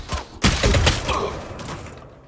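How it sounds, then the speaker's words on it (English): A flashbang grenade going off in a first-person shooter video game, one sharp loud burst followed by a fading ringing hiss, with faint background game noise. "Flashbang."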